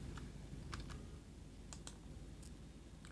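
Several light clicks from a computer keyboard, the Enter key among them, pressed while working in a spreadsheet, sparse single taps over a steady quiet room hum with no talking.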